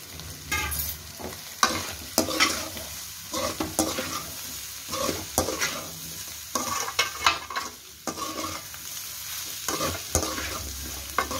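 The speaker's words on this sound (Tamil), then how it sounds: "இப்போ சிக்கன் ஆட் பண்ணிக்கலாம்." Chicken stir-frying for chicken fried rice, loud continuous sizzling with frequent scraping and clanking of a spatula against the pan in an uneven rhythm.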